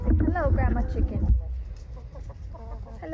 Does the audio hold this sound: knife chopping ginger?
no